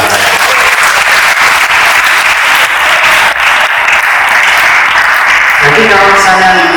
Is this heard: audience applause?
yes